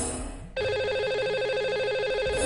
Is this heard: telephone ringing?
yes